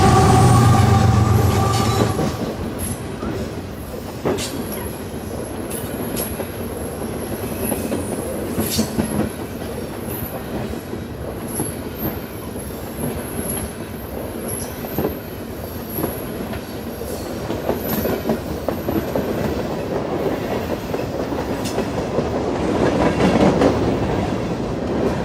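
A Canadian Pacific freight train of trash gondolas and intermodal containers rolls northbound past a mill on the Lehigh line, with a loud continuous rumble, clicking wheels and occasional high wheel squeal throughout.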